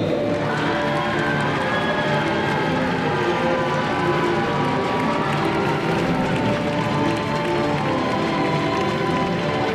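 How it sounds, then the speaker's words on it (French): Indoor audience applauding and cheering the Hungarian Cougars M14 team at a tournament final, steady dense clapping and crowd roar filling the hall throughout. "On les applaudit s'il vous plaît bien fort"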